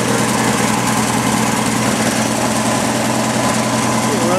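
A 1964 Rambler American 440 engine, likely with a single carburetor, idles close by with a steady, even rumble and no break in its smooth, continuous hum.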